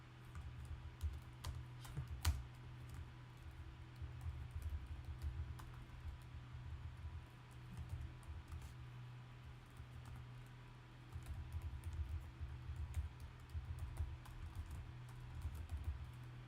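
Someone types on a computer keyboard in quick, uneven bursts of soft key clicks, faint and close, with a low steady hum underneath and no talk.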